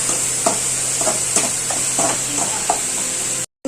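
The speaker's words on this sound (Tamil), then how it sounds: "அப்படியே நல்லா வதங்கட்டும்" Food sautés in a pan with a constant bright sizzle and light periodic stirring taps, then cuts out abruptly near the end.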